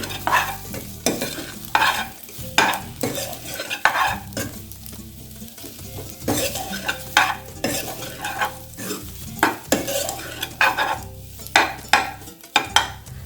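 Colocasia roast stirred and frying in a pan: loud, close, continuous sizzling broken by frequent scraping stir strokes in an irregular rhythm, with no voices.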